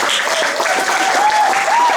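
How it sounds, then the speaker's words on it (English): Brief burst of applause from an audience at a speech event, dense steady clapping close by, with a faint voice or whoop riding over it. "Let's give her one more round of applause."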